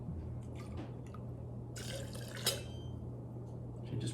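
Gin poured into a measure for a Vesper martini, a short soft liquid trickle and splash near the middle, quiet against a low background hum.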